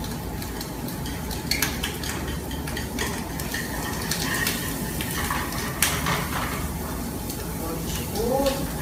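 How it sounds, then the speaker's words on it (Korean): Sliced button mushrooms and onion sautéing in butter in a pan for a Spanish omelette, a low steady sizzle with occasional scrapes and clinks of a utensil stirring, under someone talking. "버터를 넣어서 볶아주면"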